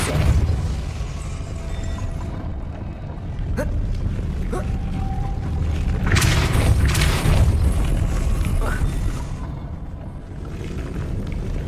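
Depulso spell cast in the video game Hogwarts Legacy, producing heavy booming bursts and crashing impacts over a rumbling game background, with several sharp hits spread across the stretch.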